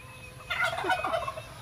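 A turkey lets out one quick, warbling gobble at moderate distance, rising out of a quiet background hum and fading within about a second.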